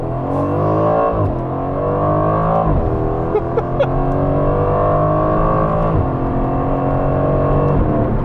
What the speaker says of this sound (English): The exhaust note when you're in Sport Plus or Track